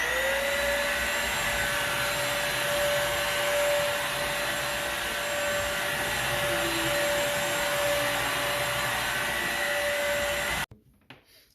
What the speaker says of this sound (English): I'm gonna use the CrossWave to go over it